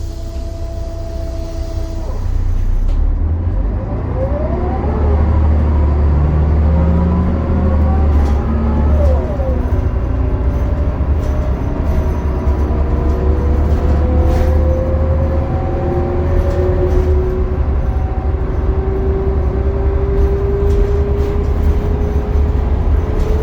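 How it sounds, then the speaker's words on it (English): A Mercedes O405 bus engine drones loudly and continuously while its ZF transmission whines through rising and falling gear tones as the bus accelerates and shifts. "Isn't that some of the best sounds from a bus that you have ever heard?"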